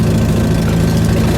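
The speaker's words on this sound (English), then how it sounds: "it is popping in between shifting gears. There's an exhaust leak, you can hear it." Idling and running VW Super Beetle air-cooled engine with an exhaust leak, a steady close, loud low rumble with faint irregular pops, no voices.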